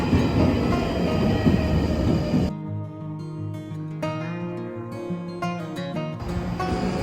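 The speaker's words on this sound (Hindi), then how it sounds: "अरे यहाँ 7 में ट्रेन आली भाई" A train pulls into a London station with a loud, close rumble that cuts to quieter clanking and a high, sustained screech of wheels on rails as it brakes, with occasional clicks of the carriages.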